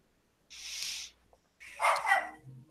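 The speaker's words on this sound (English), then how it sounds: "She starts and she will not shut up. Well, she wants to bark." A pet dog barks in two short bursts, a brief yelp and then a louder volley, clearly heard in a quiet room with no one talking over it.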